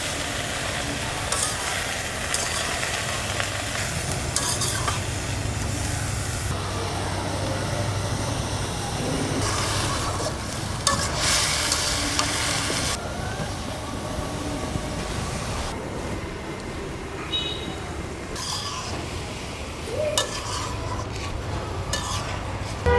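Vegetables with turmeric powder and salt being stirred in a frying pan, a steady sizzle with scraping and clattering of the utensil against the pan, continuous and close, with no talking.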